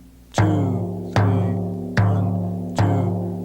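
Hand drum struck with the thumb in place of the index finger, four evenly spaced resonant strikes, each ringing with a low tone and slowly decaying, close and alone with no voices.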